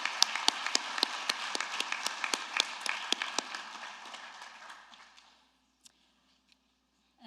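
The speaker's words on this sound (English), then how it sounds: "Let's give them another round of applause" A hall audience at an honors and awards ceremony claps in a sparse, distinct round of applause that thins and fades to near silence after about five seconds.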